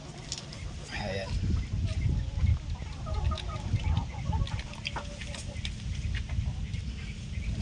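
A recovered chicken clucks in short bursts near the start, over steady low background rumble and faint outdoor noise, with no clear talk.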